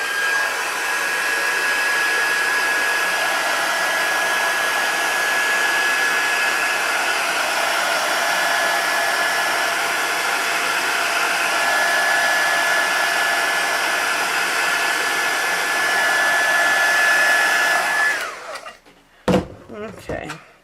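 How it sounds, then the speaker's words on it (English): A heat gun blows steadily and loudly for about eighteen seconds while drying ink on a tufted card, then cuts off, followed by a few faint handling clicks. "I'm going to take my heat gun"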